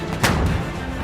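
A 35T tank's cannon fires a shell, one sharp loud boom near the start that rolls off into a rumbling tail, with no talk.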